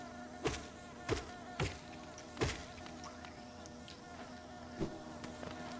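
Bees hum in a constant, fairly faint insect drone through a video game's bee area, with a handful of dull knocks and thumps breaking in at irregular intervals.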